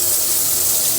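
Tap water runs steadily into a pot being rinsed clean in a home kitchen after making carrot halwa, a continuous close, broadband rush with no break or talk.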